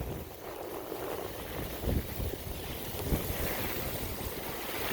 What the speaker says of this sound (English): this is wind moving from east to west on the north side of the storm as it makes landfall